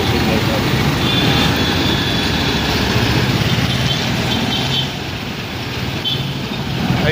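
Traffic waiting at a signal in Chinchwad, a dense steady rumble of idling engines from trucks and cars close by, with a continuous broad drone that eases slightly toward the end and a voice faintly underneath.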